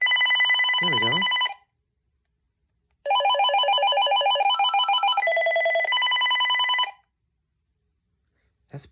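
Cordless phone ringer sounds in loud electronic warbling bursts: one short trill, a silent gap, then a longer ring that shifts pitch partway through before cutting off. Close and clear, with no voices.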